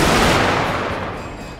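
Musket volley in Shogun 2: Total War multiplayer battle, a dense loud crackle of massed gunfire that starts at full strength and slowly trails off over a second and a half.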